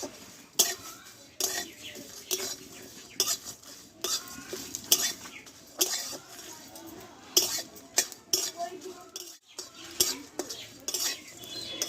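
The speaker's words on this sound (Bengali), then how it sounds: "অল্প আছে মশলাটা আমি একটু ভেজে নেব" Spice mix dry-roasting in a pan for egg ghugni, with a spatula scraping and clinking against the metal in repeated quick strokes, close and fairly quiet, with a faint background crackle.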